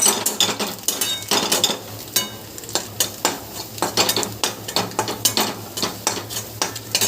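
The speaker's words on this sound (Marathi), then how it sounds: "हे वाटण आता मी त्याच्यात टाकते त्या वाटणाला पण आपल्याला थोडंसं छान असं परतून घ्यायचं आहे" Spice paste stir-fried in a pan for a kurdai vegetable dish, with steady scraping and stirring strokes in a quick repeated rhythm over a soft sizzle, close and fairly loud, no talking.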